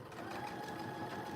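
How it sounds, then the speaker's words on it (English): A sewing machine runs steadily, stitching the bottom seam of a jeans pocket with regular thread at a 1 cm seam allowance; a continuous, even mechanical whir close by with no talking. "we're sewing this with a 1 centimetre seam allowance down the bottom of the pocket"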